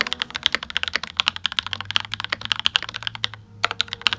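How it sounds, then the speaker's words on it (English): Rapid, crisp key clacks from a Keychron K8 Pro wireless mechanical keyboard in a steady typing rhythm, close and clear, with a brief pause near the end and no voices. "the most popular wireless mechanical keyboard"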